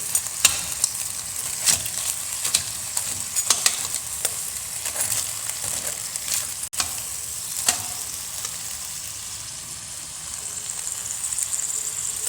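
Crab frying in butter and a couple of spoons of oil, sizzling steadily and close while being stirred, with repeated scraping clicks and knocks of the spoon against the pan all the way through.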